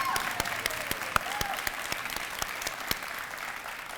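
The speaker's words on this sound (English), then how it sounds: "Let's give everybody another round of applause." Crowd applause at a registered nursing program celebration, steady sustained clapping with some sharper individual claps standing out, heard at moderate distance.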